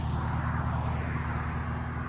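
Cadillac CT5-V with straight-piped exhaust, revved briefly to a loud, sustained roar with a strong low rumble and no talking.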